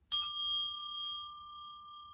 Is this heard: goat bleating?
no